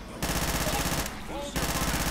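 Heavy automatic gunfire fills a zombie video game, a dense, loud, continuous burst that briefly dips and then resumes at full intensity.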